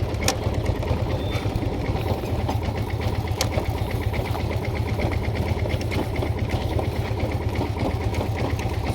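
A motorcycle engine runs steadily during a riding lesson, a close, even mechanical chugging that never changes pace throughout, with no voices over it.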